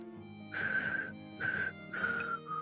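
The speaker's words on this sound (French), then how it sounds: "Qui c'est qui siffle" A person whistles in three sustained, steady notes with short gaps between them, clear and close over faint background noise during a cooperative Overcooked cooking game session.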